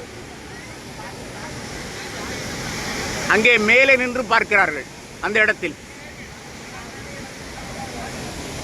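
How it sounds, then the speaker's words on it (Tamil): Athirappilly waterfall pouring over rocks, a steady broadband roar throughout, with people speaking over it briefly in the middle. "இப்படி போகிறது இங்கே ஒரு அருவி அப்படியே பாறை பார்த்து வந்தால் இந்த பக்கம் ஒரு அருவி"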